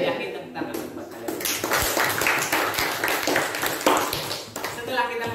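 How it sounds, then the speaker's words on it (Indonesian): Classroom students clapping together after agreeing on class rules, a burst of quick, uneven claps and taps that builds after a brief quiet start and fades near the end, with voices talking around it. "tepuk tangan buat kalian"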